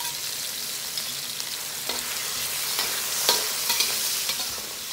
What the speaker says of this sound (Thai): ตามด้วยเต้าเจี้ยวเม็ด1ช้อนโต๊ะแล้วก็ผัดให้เข้ากันเล็กน้อยนะครับ